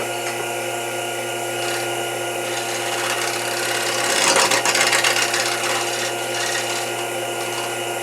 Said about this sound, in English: Let me get in there with a scraper, see if I can clean up some of that glue.